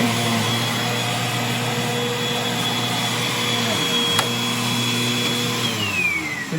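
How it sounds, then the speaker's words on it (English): An upright vacuum cleaner runs with a loud, steady motor whine and whistling airflow as it is pushed back and forth, the pitch shifting slightly near the end. "Now, I'm going to vacuum up this little pile real quick."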